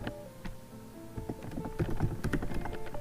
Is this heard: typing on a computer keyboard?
yes